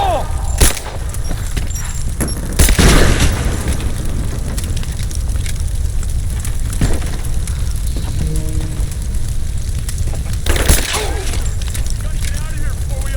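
Grenade blasts in the video game Rise of the Tomb Raider: several loud, sharp booms with rumbling tails break through continuous battle noise, while voices shout over the fighting.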